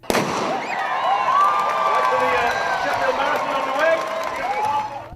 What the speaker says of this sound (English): the starting gun's fired and the crowd starts cheering